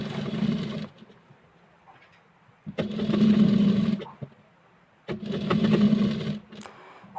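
Sewing machine stitching net blouse fabric for a lehenga blouse, whirring in three steady runs of about a second each, with quiet gaps between them.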